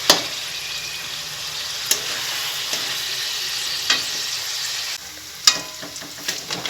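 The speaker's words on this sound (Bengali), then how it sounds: "তারপরে আমি পেঁয়াজ দিব।" Onion frying in rendered chicken fat, a continuous loud sizzle close up, punctuated by a few sharp stirring clatters.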